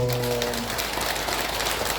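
An audience at a Buddhist temple dharma talk claps for a monk, a dense, even patter of hands that holds steady throughout, with no voices over it.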